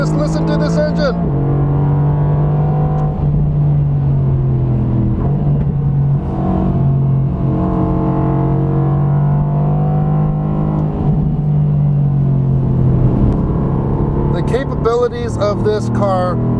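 A 2020 Mercedes-AMG GT R Pro on a wet track gives a loud, steady, close engine drone that holds nearly constant revs, with a brief voice near the end.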